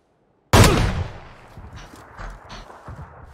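Gunfire in PUBG: one sudden loud shot bursts out, then decays into a rumbling tail with scattered quieter pops and shuffling sounds.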